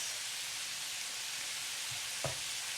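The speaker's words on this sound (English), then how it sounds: "Add the crushed spices" Crushed garlic, pepper, jeera and chili spices sizzle steadily in a hot frying pan for a pumpkin and sweet potato subji, a broad continuous hiss with a brief clatter of stirring near the end and no talking.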